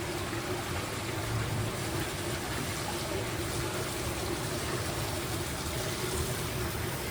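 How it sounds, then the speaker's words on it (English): An artificial waterfall spills over into the main pool of a luxury hotel in Belek, producing a continuous, even rush of splashing water at moderate distance with no voices. "that's like a waterfall that goes over into the main pool"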